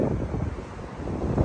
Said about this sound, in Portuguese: Tá ventando um pouquinho.